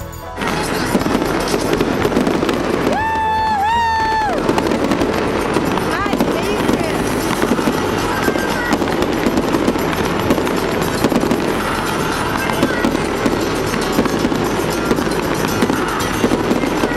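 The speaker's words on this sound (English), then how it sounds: "Oh, Darling Harbour Fireworks. They play fireworks every Saturday and it's awesome and exciting." A Saturday night fireworks display over Darling Harbour in Sydney crackles and pops densely and continuously, with a brief whistling rise early on, while a crowd murmurs and voices talk over it.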